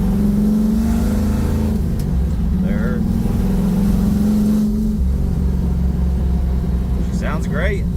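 A 1967 Chevrolet Camaro accelerating and shifting gears, its engine note climbing, breaking off at each shift and settling again, loud and close from inside the car while someone talks over it.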